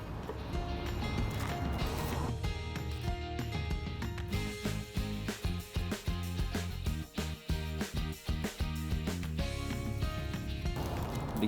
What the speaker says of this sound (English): I'm gonna keep the drill on while I'm dumping it in